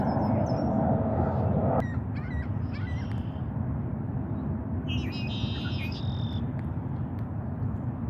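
Several bird calls ring out: a series of short, bright chirps and honk-like cries in the first half, then a louder, sustained call later, over steady background noise with a voice speaking softly.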